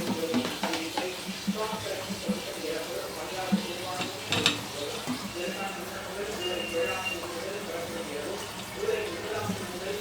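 Egg frying and being stirred in a pan, with soft sizzling and scraping running steadily under a person talking throughout.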